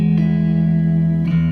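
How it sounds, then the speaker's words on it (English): Sustained electric guitar notes ring through a heavy reverb pedal with a modulating tail, a loud, smooth, lingering wash where a fresh note is picked near the start and another near the end. "You'll notice here that I'm using a lot of reverb. And there's actually a tail that's modulating."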